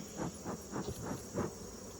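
Honey bees buzzing in a ten-frame hive fitted with one super, a steady droning hum that pulses in soft repeated swells, heard up close and without any voices.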